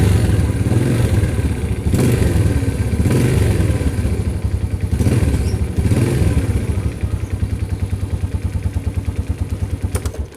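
Motorcycle engine fitted with a car relay in place of the starter bendix, running close by with a steady chugging idle and a few blipped revs early on, then settling into an even, rapid putter.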